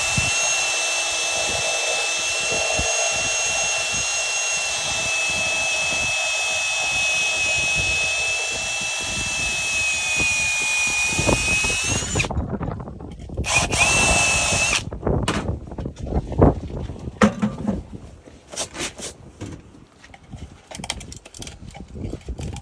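A power drill bores a hole for a junction box, its motor whining steadily and loudly for about twelve seconds, then cutting in and out in short, uneven bursts.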